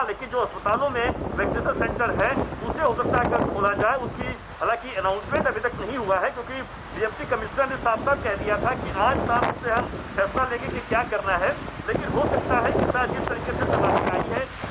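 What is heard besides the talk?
strong cyclone wind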